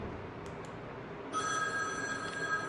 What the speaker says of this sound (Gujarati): એ ફોન આવ્યો.